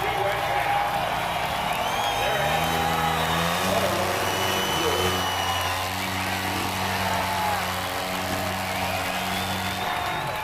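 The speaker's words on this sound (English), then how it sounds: "Listen to the crowd." Stadium crowd roars at a Daytona Supercross race, a broad continuous wash of cheering under idling motorcycle engines and a commentator talking over it.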